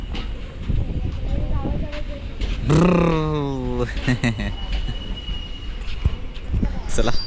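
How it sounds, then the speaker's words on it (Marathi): A freight train rolls past at a Konkan railway station with a loud, drawn-out squeal of wheels on rails, alongside laughter and nearby talk. "रेल्वे स्टेशनला पोहोचलो आहे मालगाडी आली आहे"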